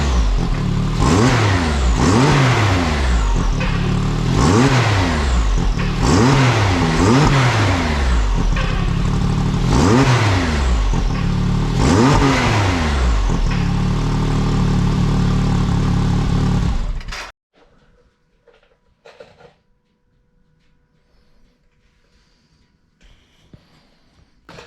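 A Can-Am X3 side-by-side engine with its catalytic converter still fitted revs up loudly in about six repeated bursts, each pull rising and falling, then cuts off abruptly to near silence with faint background clatter.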